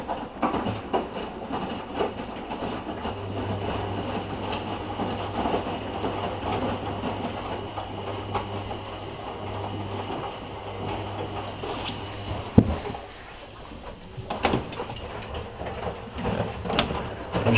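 Two washing machines, a Miele W5748 and a Whirlpool AWM 1400, run their final rinses together, giving a steady rumbling, sloshing drone with a low motor hum and scattered clicks and knocks, fairly close throughout.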